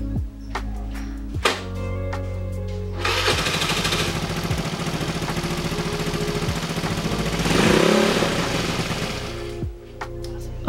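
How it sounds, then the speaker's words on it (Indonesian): Honda Vario 130cc bore-up scooter fitted with a NOB1 exhaust and its DB killer in place, starting up and idling with a low burbling rumble, then revving twice in loud, rising bursts before settling back to idle. "ini knalpotnya sudah terpasang ya di motor gua. Sekarang kita tes nyalain aja."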